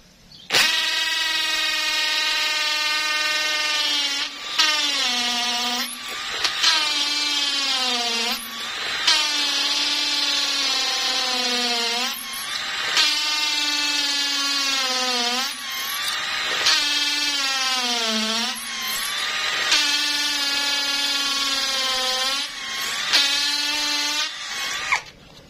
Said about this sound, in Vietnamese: Mình sẽ thử khoan vô cột bê tông cho các bạn xem nha.